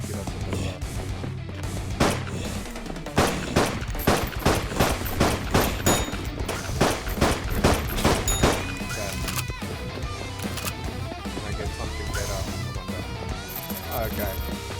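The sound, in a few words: rusty pistol gunfire in a video game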